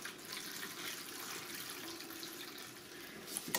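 Water runs into a plastic seed starting flat, filling it about a quarter full, as a steady soft hiss that is quiet and continuous, with a few small clatters near the end.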